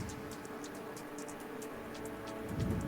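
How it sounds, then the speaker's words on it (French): Rain spell effect from the video game Spellcasters: a soft, steady patter of falling rain, quiet and continuous, with no voices. "Déclenche une pluie."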